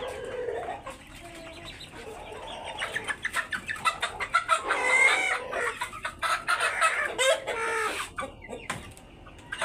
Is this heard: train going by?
no